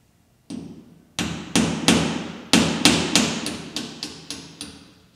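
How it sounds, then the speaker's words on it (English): A nail is hammered into drywall to probe for anything behind it, with about a dozen sharp, close hammer blows that come in quick bursts and grow more regular. "in this case, we're going to use a nail to see if there's anything behind it."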